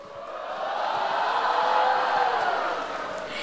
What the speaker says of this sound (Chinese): 接下来再次掌声尖叫声